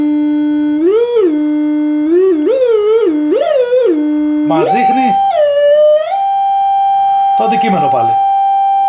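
Groundtech 3D metal detector in pinpointer mode responding to a mobile phone, giving steady electronic tones that rise and fall in pitch with several wavering beeps, then a long sustained tone, with someone talking over it.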